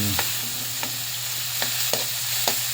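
Tomatoes sautéing in a pan give off a steady close sizzle, and four or five distinct spatula scrapes tick through it at irregular intervals.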